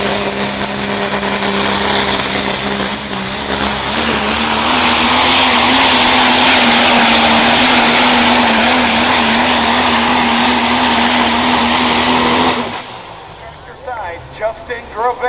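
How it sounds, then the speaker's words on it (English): A 1997 Dodge Ram super stock diesel truck with a single turbocharger roars down the pull track at a truck and tractor pull, loud sustained engine drone rising then cutting off, with an announcer talking and crowd noise after. "Corey Pyatt, 97 Dodge Ram, Misunderstood, wanting 1 turbocharger, a super stock diesel"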